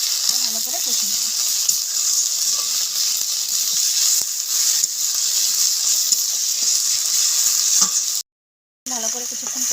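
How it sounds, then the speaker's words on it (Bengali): Spice paste with chili powder sizzles steadily in hot oil in a pan, being cooked down for katla fish kalia, a constant bright frying hiss with occasional stirring scrapes and a brief cut near the end. "ভালো করে কষিয়ে নেব।"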